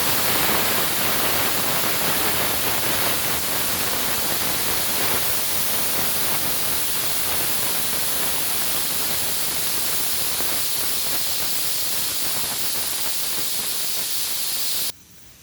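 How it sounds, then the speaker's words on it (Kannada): Steam rushes from a pressure cooker on the stove in a loud, steady hiss that lasts about fifteen seconds, then cuts off abruptly. "ನೋಡಿ, ಸ್ಟೀಮ್ ಬರ್ತಾಯಿದೆ. ನಾನಿವಾಗ ವೆಯ್ಟ್ ಹಾಕಿ 1 ವಿಷಿಲ್ ಕೂಗಿಸ್ತೀನಿ"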